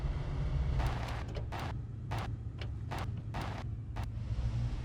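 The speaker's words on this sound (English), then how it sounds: "Man, those brakes sure make a lot of noise." A Western Star truck in the video game SnowRunner sounds its brakes in a run of sharp, hissing bursts of uneven length over a steady low engine rumble, loud and near with no talk.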